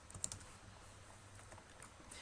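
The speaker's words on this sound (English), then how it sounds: "we'll type in another one that we want to go with" Typing on a computer keyboard while adding a WordPress plugin, heard as soft, quick key clicks in an irregular rhythm over a steady low hum, fairly quiet and close, with no one speaking.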